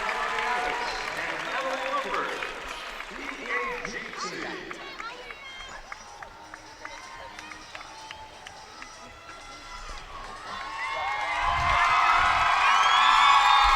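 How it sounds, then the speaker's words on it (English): A crowd at the 2014 USA Gymnastics Championships senior finals cheers and applauds, rising to a loud swell near the end, with commentators talking over the arena noise. "You can hear the crowd."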